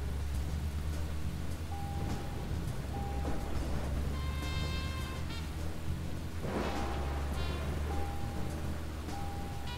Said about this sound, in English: I can only do the side quest when it's raining?